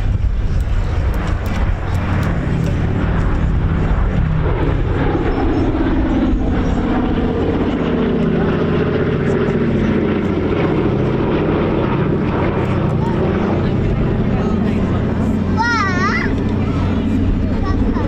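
B-17 and B-24 bomber aeroplanes flying at an airshow, a loud, continuous multi-engine propeller drone that shifts gradually, with a voice talking over it.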